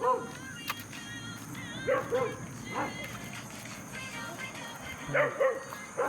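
A dog barks and yips in short bursts near a road in a rural Philippine setting, several barks spread across the scene over a steady low background hum, with faint voices and other noise around.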